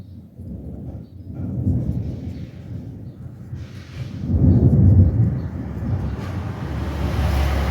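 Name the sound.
thunder during rain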